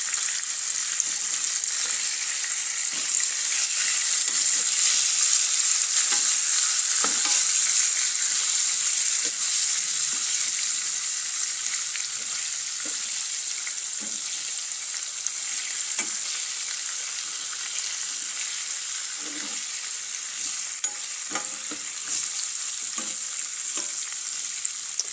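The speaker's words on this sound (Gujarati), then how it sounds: "તેને ચમચાની મદદથી ફેરવી લઈશું" Stuffed brinjal curry sizzling steadily in a pan over a low flame, with a spoon scraping and stirring now and then through the constant bright frying hiss.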